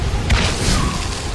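A flak cannon shot bursts in a chaotic Unreal Tournament 3 match, a loud boom with a sharp whooshing blast that rumbles low and dense through the whole moment.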